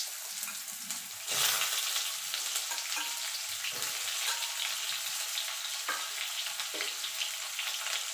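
Sliced ridge gourd fries in hot oil with a steady, close sizzle that holds throughout, with a brief louder burst early on and no talk.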